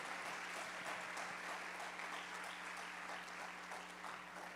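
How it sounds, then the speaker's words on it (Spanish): A church congregation applauding God, a faint, steady spread of many hands clapping in a reverberant hall, continuing evenly for several seconds. "Alguien dele un aplauso a Dios."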